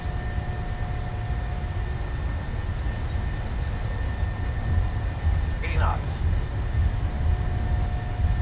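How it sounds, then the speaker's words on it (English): Steady broadband engine roar of an airliner spooling to takeoff thrust in Microsoft Flight Simulator, a constant loud rumble filling the whole stretch with a brief chirp near the end. "And takeoff thrust set."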